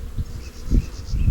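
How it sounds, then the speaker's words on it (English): Bees buzzing inside a hive kept in a bin, heard during an inspection as they build comb on the frames; a faint steady hum runs throughout, with a few soft low knocks and bumps close by. "lots of bees in here again, stuck to the top"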